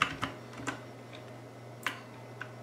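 A few sharp computer keyboard keystrokes entered while working in design software, scattered and separated by pauses over a steady low hum, with no talking.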